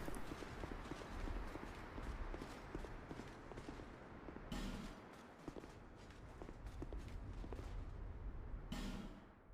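Horse hooves clip-clop steadily in the Dark Souls II video game, a continuous run of close, moderately loud hoofbeats with brief sharper bursts standing out, heard alone without any talk.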